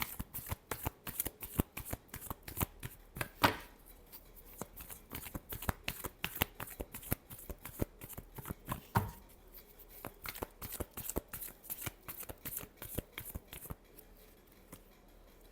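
Tarot cards being shuffled by hand, a dense run of quick riffling flicks and soft slaps repeating steadily throughout, close and fairly quiet with no talking.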